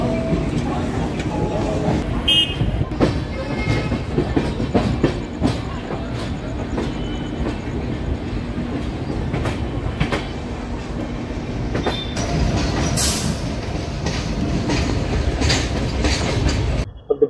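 The Pinakini Express, a passenger train of LHB coaches bound for Chennai Central, rumbles and clatters steadily along the track in a dense, continuous roar heard from inside, with a few sharp clanks and brief bursts of talk.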